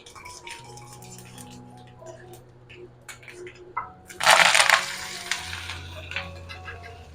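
Mustard seeds, curry leaves and chopped ivy gourd go into hot oil in a home kitchen, setting off a loud burst of crackling sizzle that then settles into steady frying.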